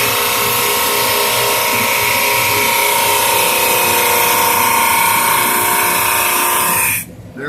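A Supermax 19-38 drum sander runs a wood board through rough sandpaper with a loud, steady grinding whine, holding constant for about seven seconds before cutting off abruptly near the end.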